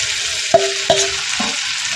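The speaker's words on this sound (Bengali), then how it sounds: "এখানে এই যে ভেজে রাখা মাংসগুলো দিয়ে দেবো" Fried chicken pieces added to a pan of oil-released spice masala in a simple village kitchen, with two sharp thuds and clatters over a steady sizzling hiss.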